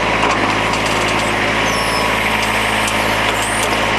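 Backhoe engine running as it stretches out its arm and dumps a load, a loud, steady mechanical roar with faint high squeaks and rattles on top.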